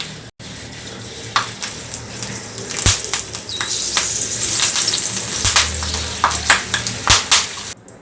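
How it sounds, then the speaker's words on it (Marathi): Green chillies frying in hot oil, a steady close sizzle with scattered sharp crackles and pops throughout, no voices. "आपण मिरच्या तळून घेऊ शकतो"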